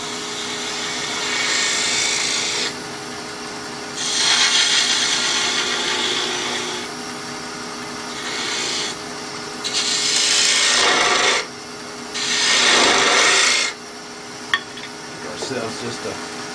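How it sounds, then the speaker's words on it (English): A detail spindle gouge cuts a wood coffee scoop on a lathe, with several loud scraping passes of a few seconds each separated by the quieter hum of the spinning machine. "I'm going to use my detail spindle gouge for that."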